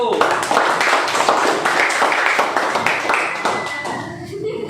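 A classroom group claps in dense, steady applause for a few seconds, the clapping rolling on evenly before tapering off at the end.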